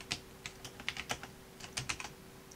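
Someone types on a computer keyboard, entering a file name, in a quick close run of individual key clicks with a short pause midway, faint and with no voices.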